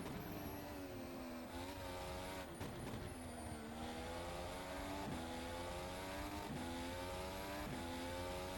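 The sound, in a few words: race car engine at Zandvoort in rFactor 2 video game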